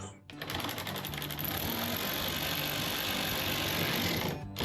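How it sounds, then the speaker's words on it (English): An Allen socket on a power driver tightens a T-nut for an Overland aluminum truck cap on a Toyota Tacoma Trailhunter bed, a steady close whirring drone held for about four seconds before stopping. "And then taking a number 5 Allen socket, or an Allen wrench,"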